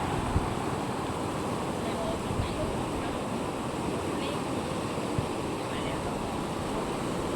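Fast, strong floodwater rushes past the shrine of Phra That Saen Hai in Wiang Haeng, Chiang Mai, a steady dense roar that never lets up, with wind buffeting the microphone.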